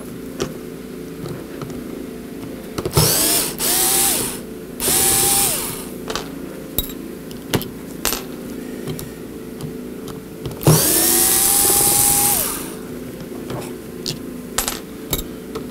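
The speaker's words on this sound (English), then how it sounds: "So let's unscrew the top here from the base." A power driver unscrews the screws holding the top of a Wico arcade joystick to its base in several close whirring bursts, with clicks and small metallic clatters between them.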